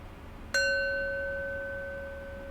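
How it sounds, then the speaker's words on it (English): A meditation bell is struck once to close a practice session, a clear bright strike followed by a long, steady ringing tone that fades slowly in a quiet room. "And I'll close practice with the bell."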